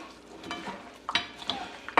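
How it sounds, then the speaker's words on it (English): Hands squish and mix oxtails with onion in a marinade at close range, giving soft wet squelches and slaps in an irregular rhythm, with a few sharper clicks against the bowl. "All I need to do now is get my hands in there and really work that in."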